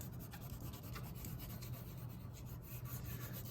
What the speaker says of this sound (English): I'm gonna use the side of the crayon and I'm gonna rub it, and it adds a nice texture